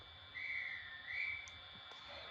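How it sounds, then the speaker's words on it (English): Two shrill sustained whistle blasts from the sound system of a Bachmann Class 350 model train, the guard's whistle played alone and fairly quiet with a short gap between. "Guard's whistle."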